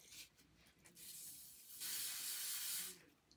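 Hair spray is sprayed onto a used wig during an install, a steady airy hiss that swells into one louder, longer burst near the end, with faint background noise.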